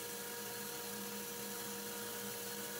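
Band saw fitted with a new resaw blade ripping walnut into 1.5-inch square stock in a woodshop, a steady continuous whining hum with constant level and no pauses, fairly quiet and alone.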